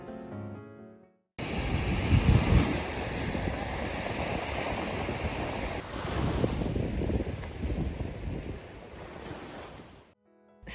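Ocean waves roll onto Songjeong beach in Busan, a continuous loud wash of surf with wind buffeting the microphone, swelling and easing over several seconds with no voices.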